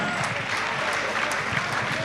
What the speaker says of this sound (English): Big round of applause for Aaron